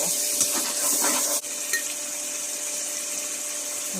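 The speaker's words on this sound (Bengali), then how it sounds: "রসুন বাটা, পেঁয়াজ বাটা, দিয়ে একটু নাড়াচাড়া করে নেব।" Garlic paste and onion paste stirred in a hot pan for a potato curry with chicken giblets, feet and wings. A constant bright sizzle runs under light scraping, and the stirring quiets after the first moments.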